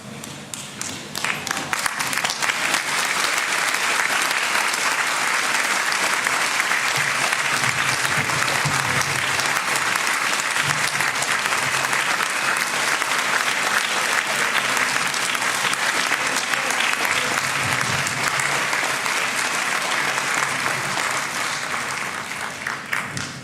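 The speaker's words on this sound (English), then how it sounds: "give those families who have supported you throughout this journey a well-deserved round of applause" Sustained round of applause from graduates standing at a college conferring ceremony, a dense, even roar of many clapping hands filling the hall for over twenty seconds before tapering slightly at the end.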